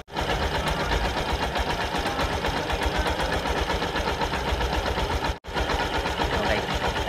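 A motorcycle engine runs steadily during a stator and charging check, a close, continuous mechanical drone with a rapid knocking rhythm and one brief cut near the end.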